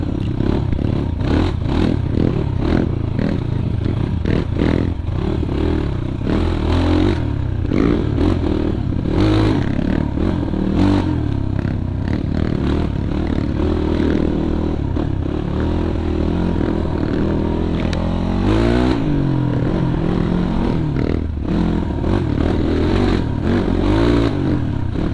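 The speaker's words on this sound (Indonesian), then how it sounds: "Emang enak bener nih motor." A Gazgas GE 250 GZ2 dirt bike rides an off-road trail on Bromo, its engine revving up and down continuously with rattles and scrapes from the rough ground, loud and close throughout.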